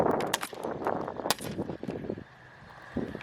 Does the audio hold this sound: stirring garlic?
no